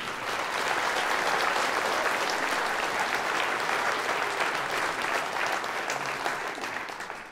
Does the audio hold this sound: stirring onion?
no